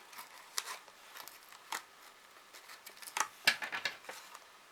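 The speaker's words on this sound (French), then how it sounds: "Donc je coupe ce que j'ai en trop" Scissors snip away excess paper for a scrapbook layout for a little girl, with a series of crisp, close, irregular cuts and no voices.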